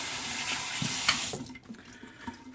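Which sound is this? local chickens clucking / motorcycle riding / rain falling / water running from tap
water running from tap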